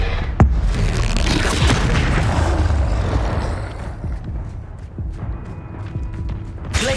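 Bombarda and Confringo spell explosions in the video game Hogwarts Legacy, loud booming blasts that run together into a dense rumble and then fade into softer residual crackles and thumps.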